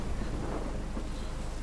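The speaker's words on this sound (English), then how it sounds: "It's very rainy right now." Steady heavy rain with a low rumbling undertone of thunder, constant and fairly loud throughout, likely caught outdoors during a storm with wind buffeting the microphone; no one speaks.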